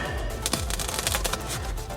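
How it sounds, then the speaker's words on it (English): Rapid crisp snipping and rustling of extra-large scissors cutting through sound padding for a 1956 VW Beetle, close up, in a quick irregular burst with no speech. "I can just cut it with a pair of huge scissors"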